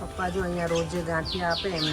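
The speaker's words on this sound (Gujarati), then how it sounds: "જો એ કાબર કેવી મસ્ત બોલે છે," A common myna gives a run of short, bright chirping calls nearby while someone talks over it.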